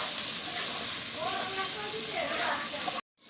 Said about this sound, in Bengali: খুব ভালোভাবে ভাজা হয়ে গেছে লঙ্কা আর টমেটো।